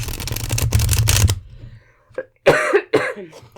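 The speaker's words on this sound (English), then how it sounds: "I'm coughing more today than I thought I would." A woman recovering from flu gives a couple of short, sharp coughs near the microphone, following a burst of card shuffling at the start.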